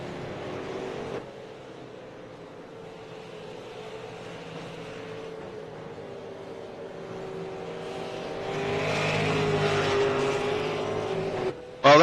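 Road course race cars drone steadily at a distance, the engine pitch dropping and shifting as gears change, then swelling louder toward the end as they pass nearer.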